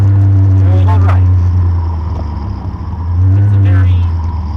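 A 1992 Suzuki Cappuccino's small turbocharged engine drones loud and steady while driving, heard from inside the cabin, with brief muffled voice-like sounds over the hum.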